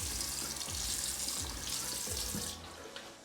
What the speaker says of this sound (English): Let's turn on some water inside right here and see what happens.